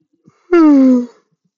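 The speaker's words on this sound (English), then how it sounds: "Sorry for all the yawns." A person lets out a long, drawn-out yawn with a voiced descending moan, close and loud, in an otherwise quiet room.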